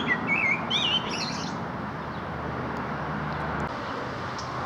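Blackbird song on a countryside footpath in July: a few bright warbled phrases in the first second and a half, then faint chirps, over a steady hum of distant road traffic and wind.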